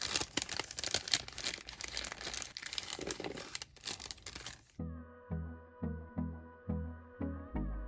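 Artificial flowers are pulled from plastic packaging with loud, dense crinkling and rustling, then a series of rhythmic, evenly spaced hollow knocks as they are dropped into a container.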